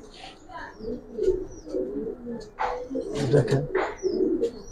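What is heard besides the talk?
pigeons cooing, Giribaz and coloured pigeons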